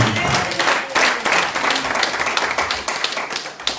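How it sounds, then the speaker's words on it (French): Audience at a French-speaking Christian gathering about Jesus claps and cheers in a dense, steady burst of applause that fills the whole moment, near and lively. "Est-ce qu'on peut acclamer pour lui encore?"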